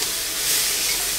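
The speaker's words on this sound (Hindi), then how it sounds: "मतलब पहले मसालों में एंड ऑयल में फ्राई करेंगे।" Rice fries in hot oil with spices, a loud, dense and continuous sizzle heard close up with no voices.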